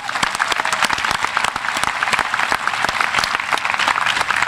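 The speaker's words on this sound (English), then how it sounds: "Let's give all these students a round of applause." A crowd applauds at a high school commencement ceremony, with dense, sustained clapping from many hands filling the hall at a steady, moderately loud level.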